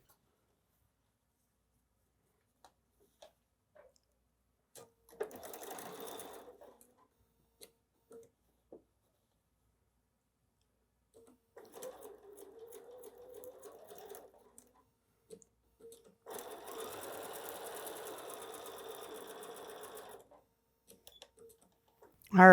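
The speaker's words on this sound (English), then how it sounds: "Now I'm going to go sew 1/4 inch." A home sewing machine stitching a quarter-inch seam on a quilt block, heard in short intermittent runs of soft mechanical whirring with quiet clicks and gaps between bursts.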